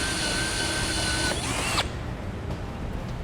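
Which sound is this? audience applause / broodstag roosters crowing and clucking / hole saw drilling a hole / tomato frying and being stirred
hole saw drilling a hole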